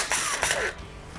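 A ratchet clicks quickly in two short bursts as it spins off bolts on a car's battery ground, close and fairly quiet, followed by a faint trailing sound.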